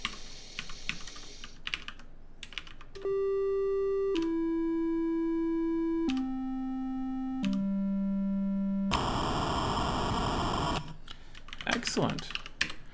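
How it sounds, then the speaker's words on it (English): A Commodore 64 game programmed in 6502 assembly plays a descending series of four steady square-wave beeps, each held over a second, then a loud burst of noise, with keyboard typing before and after. "we've created an init sound, a play sound, and a stop sound"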